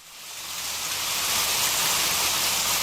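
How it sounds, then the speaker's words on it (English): Steady, calming rain hisses as a dense broadband wash, fading in over the first half second and then holding loud and even throughout, with no voices. "So it's just rain. It's the rain sound."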